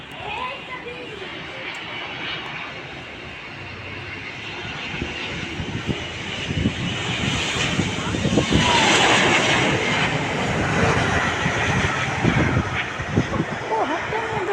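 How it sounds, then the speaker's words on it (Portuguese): A large airplane roars overhead, its engine noise swelling into a loud, broad rumble that peaks midway and stays heavy throughout, while excited voices talk underneath. "olha o tamanho do avião"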